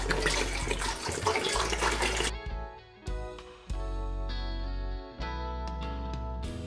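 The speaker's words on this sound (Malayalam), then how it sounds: "ഇനി നമ്മൾ 2 ലിറ്റർ വെള്ളം ഇതിലേക്ക് ഒഴിച്ചു കൊടുക്കാം." About two litres of water poured into a pot used for making homemade handwash, a rushing splash at first, then intermittent gurgles and clinks as the pour stops and restarts.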